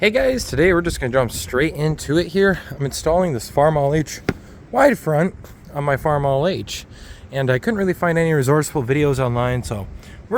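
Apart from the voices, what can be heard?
No distinct noise like a dog, phone or traffic.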